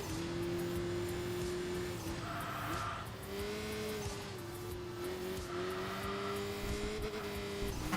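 Lancia Delta Evo 2 rally car engine in the Enthusia Professional Racing video game, a steady droning rev that rises and falls through gear changes, heard alone at moderate volume.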